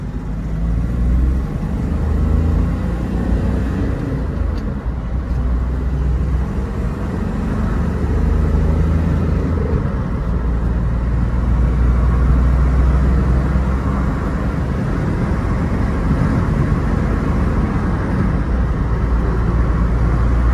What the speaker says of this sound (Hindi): यहाँ से टर्न करते हुए एक अच्छा सा पिकअप चेक करते हैं इस महिंद्रा ट्यूबी का।